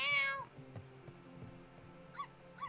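A pet cat in the farming life-sim game My Time at Portia gives a loud meow at the start, then two shorter, quieter mews follow over soft background game music.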